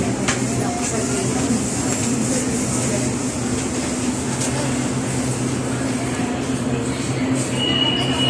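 LRT train riding out from Baclaran, a steady rumbling roar of the carriage on the rails with a constant low hum heard from inside, with people chatting over it.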